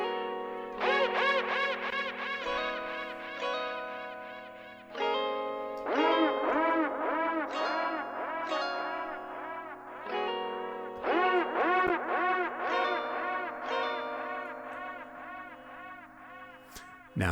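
Music with rapid warbling, repeated tonal phrases drenched in heavy reverb and effects, washing into each other in a sustained, echoing wall.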